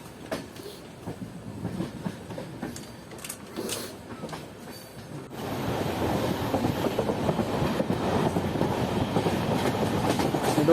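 A Mumbai LTT–Ernakulam superfast train running on the tracks: faint rumbling at first, then louder, close clickety-clack and wheel rumble that builds steadily toward the end.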